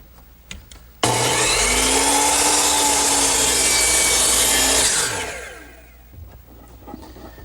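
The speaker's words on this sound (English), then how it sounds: "So I turn my saw to 45 degrees and cut the angle." A hand saw in a miter box cuts through wooden molding at a 45-degree angle: one loud, continuous rasping stroke sequence that starts abruptly, runs for about four seconds, then fades out.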